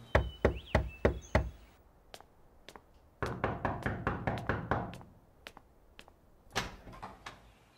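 Several bursts of firm knocking on a door where the doorbell won't ring because the power is out: a quick run of loud raps, a pause, a longer series of rapid knocks, then a final few raps, close and clear.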